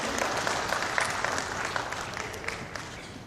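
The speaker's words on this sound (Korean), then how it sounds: "박수 한번 쳐서, 박수 한번 쳐서 우리 유 사장님 오셨으니까." A seminar audience of Korean business people claps to welcome a visiting company president, Mr. Yu: a short burst of even, moderately faint applause that holds steady throughout without any talking.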